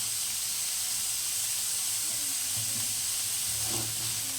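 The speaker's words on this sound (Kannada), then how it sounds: "ಈರುಳ್ಳಿ ಬೇಗ ಫ್ರೈ ಆಗುತ್ತೆ ಅಂತ." Onions fry in a pan for mushroom gravy, giving a constant close sizzle and hiss with occasional faint stirring.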